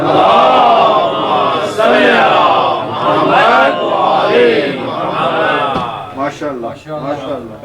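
A large crowd at a Muharram gathering recites salawat aloud in unison, a loud, dense wash of many voices rising and falling together that continues for several seconds.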